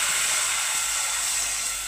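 Water poured into hot tempering oil with mustard seeds, cumin, garlic and curry leaves, producing a loud, steady steamy hiss that fades slightly, close and continuous, with no voices.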